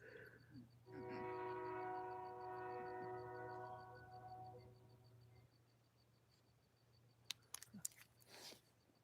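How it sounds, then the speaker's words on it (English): A train passes with a long sustained horn blast at moderate distance, fading away over several seconds, followed by quieter rumbling and a few brief clicks near the end. "I love trains."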